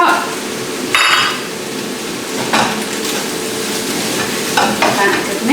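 Spiced sweet potato fajita filling is stirred in a pan, with a steady sizzle of frying food and a few scraping stirs and utensil knocks against the pan, close and fairly loud, with no talk.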